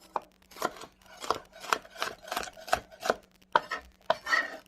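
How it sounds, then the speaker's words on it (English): A knife chops through a bell pepper on a cutting board in a quick, even series of crisp thuds, close and clear with no speech. "I'm going to cut one more pepper."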